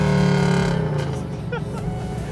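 A big-turbo V8-swapped Nissan R34 Skyline runs with its exhaust valve closed, a deep muffled engine drone with harmonic hum that eases off as the car rolls along, close and steady.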